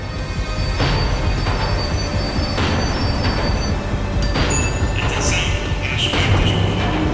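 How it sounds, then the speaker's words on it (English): A tram slowing down in the video game Max Payne 3, with a steady rumble of rail noise, repeated clanks and bursts of brake squeal over about seven seconds at close range. No one speaks. "The tram was slowing down, and I'd only just gotten on board."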